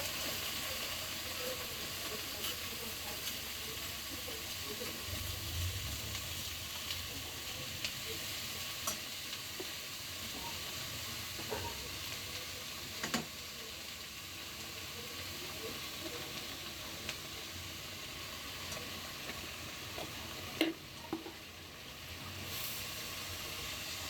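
Leafy greens go into a pan of browned onion and garlic and give a faint, steady sizzle and hiss that lasts throughout, with occasional light clicks of stirring.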